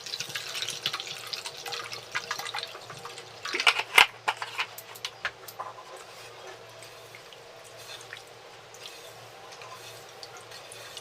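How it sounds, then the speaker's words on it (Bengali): Water poured into mango panna juice in a home kitchen, a short splashing pour with a few clinks of a container, then soft trickling that fades to a quiet background. "তো জল অ্যাড করে নেবো।"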